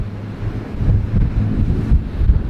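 Strong wind buffets the microphone while waves surge at sea beneath chalk cliffs near Beachy Head, Eastbourne, heard from aboard a Trader 535 Sunliner motor cruiser. It is a loud, continuous low roar with steady rushing throughout.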